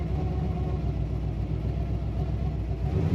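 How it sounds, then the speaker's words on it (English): A 1964 Chevrolet Impala SS engine runs steadily at idle, its exhaust giving a low, even rumbling thump that stays loud and close throughout, with no talk. "A nice thump to the exhaust on this car."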